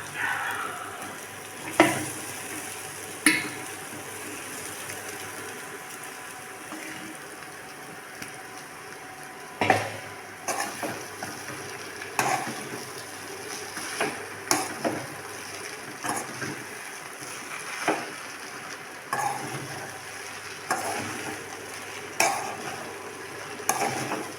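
Rice being stirred into brinjal masala in a pan over low heat, with a soft steady sizzle and repeated scraping strokes and clinks of the spoon against the pan, moderately close, no talking.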